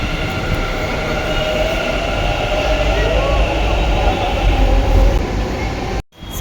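Riding aboard a Bengaluru metro train coming out of an underpass near Majestic: a loud, continuous rumble of the moving carriage with faint squealing tones, ending in a sudden brief cut.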